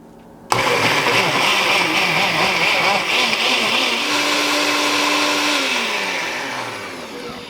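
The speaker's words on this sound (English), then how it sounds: "let's go blend it. And here we go. Let's start by pulsing this bad boy first." A kitchen blender pulsing Korean braising sauce for beef short ribs, starting abruptly after a quiet moment into a loud grinding whir that shifts pitch as it runs, then slowly winds down at the end, no talking.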